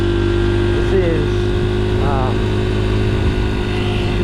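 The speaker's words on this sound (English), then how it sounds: "2001 Honda XR 80R." A 2001 Honda XR 80R dirt bike engine runs steadily while being ridden, a constant close drone with slight pitch wavers and wind rush throughout.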